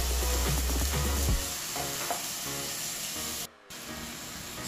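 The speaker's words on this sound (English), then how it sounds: "my natural season is being sauteed" Sweet pepper, onion, scallion, thyme, bonnet pepper and okra sauté in a hot pot, giving a steady close sizzle with a heavier, lower rush of frying at the start and a brief dropout near the end.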